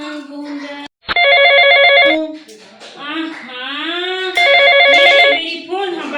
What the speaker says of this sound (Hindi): काकर फोन बाजत है